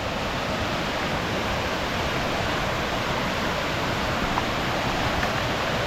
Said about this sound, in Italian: È pieno di cascate adesso.